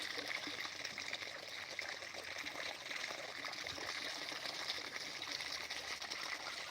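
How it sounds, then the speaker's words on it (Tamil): Water runs along like a small river, a faint, continuous trickling and gurgling stream with no pauses. "தண்ணி அப்படியே நம்பி போயிட்டுருக்கு ஆறு மாதிரி போயிட்டுருக்கு"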